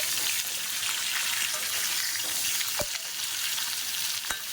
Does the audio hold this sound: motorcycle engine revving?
no